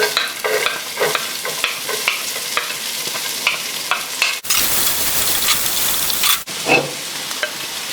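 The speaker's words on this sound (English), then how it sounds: "Saute your onions." Onions sautéing in flavored oil sizzle loudly and close by, with rhythmic scraping stirs. Midway, a burst of fuller, hissing frying noise takes over, then the stirring returns. No one speaks.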